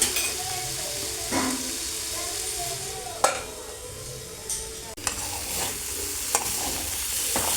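Broad beans fry in a pan with a steady low sizzle while a spoon stirs them, giving a few sharp scrapes and clicks against the pan.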